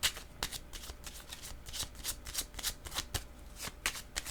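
Tarot cards being shuffled by hand, a rapid series of crisp riffling flicks and soft slaps, close and quiet, with no voice over them.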